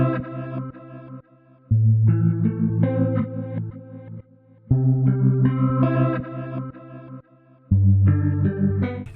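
Guitar melody loop called Slow Motion, drenched in chorus, distortion and echo effects, repeating phrases in rhythmic bursts separated by brief gaps, moderately loud with no voices.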